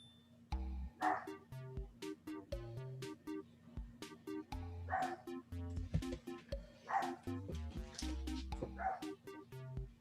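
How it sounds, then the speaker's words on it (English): Pet dogs bark in quick bursts across the scene, fairly close by, over steady background music with harmonic notes. "Try to keep my dogs quiet."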